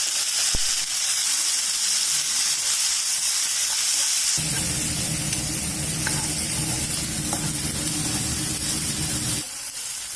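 Two cut tomatoes frying in a pan for kanda pulusu, a loud continuous hissing sizzle that swells into a fuller crackling fry midway, then thins back to a bright hiss, no talking.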